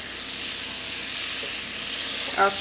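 Curry noodles being stirred in a hot frying pan, a steady close sizzle with a brief scrape of the utensil near the end.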